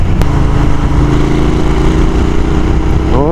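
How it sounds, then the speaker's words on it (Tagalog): A Royal Enfield Continental GT 650 motorcycle with an aftermarket exhaust idles with a deep, steady, throaty rumble up close, then a brief rising rev at the end. "Oh, ganda ng tunog ng tambucho ah."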